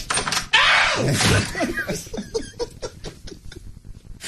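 A door opening, heard as a sudden loud thump followed by a creaking, sweeping noise and a run of small knocks and rattles, close and fairly loud, with faint laughter mixed in.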